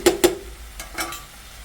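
A spatula scrapes and stirs food frying in mustard oil in a pan, making four quick, close strokes in two pairs over a faint background sizzle.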